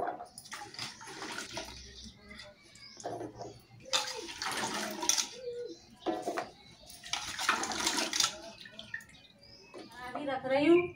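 Splashing and pouring of clean water as food is rinsed in a home kitchen before cooking on a wood-fired clay stove, in intermittent bursts with someone talking throughout.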